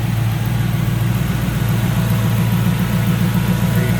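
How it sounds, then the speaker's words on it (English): A 1965 Chevrolet Chevelle Malibu with headers, Edelbrock full-flow fuel system and HDI ignition idles smoothly and steadily, a close, loud, even rumble with no talking. "Nice setup, smooth running engine."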